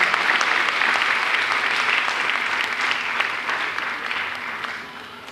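An audience at an annual cultural awards ceremony applauds a filmmaker's songs and music, giving a dense, sustained wash of clapping that tapers slightly toward the end, with no speech over it.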